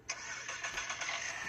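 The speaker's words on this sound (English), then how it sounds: "we're going to start the car." A small RC drift car starts up with a brief whirring buzz that settles into a steady, fairly quiet electric hum, heard alone without any talking.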